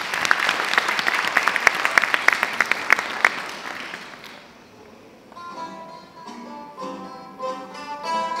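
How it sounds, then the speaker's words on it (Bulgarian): Audience applause after a children's choir and young tamburitza players at a school music concert, sharp clapping for about four seconds that fades out, followed by the soft tones of the next musical piece. "Аплодисменти за тях!"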